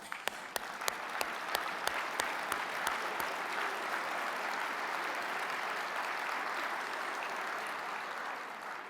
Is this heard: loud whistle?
no